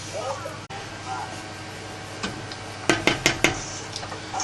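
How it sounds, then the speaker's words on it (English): Spoon stirring chicken stock in a cooking pot, a few sharp metallic clinks and scrapes clustered midway through over a quiet kitchen background. "So I'm just going to stir that around and let it cook like that for a little bit."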